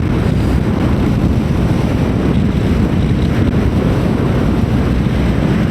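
Steady, heavy wind roars and buffets constantly across the microphone while riding a motorbike, a loud low rumble with no letup and no voices.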